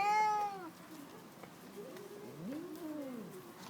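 A Bengal cat meows close by, with one long loud meow at the start and then a couple of quieter drawn-out, rising and falling calls, against a quiet background.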